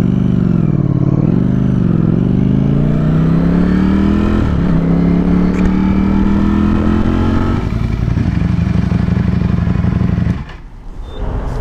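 A Ducati Streetfighter V4 motorcycle engine runs loud and close, its revs climbing and settling in a strong buzzing tone, then cutting back abruptly near the end.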